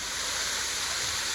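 Waterfall at the base of Quiverheart Gorge, a loud, steady rushing roar of falling water heard up close, with no talking over it.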